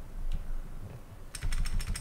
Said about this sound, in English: So we're going to be typing that 131 in a bunch.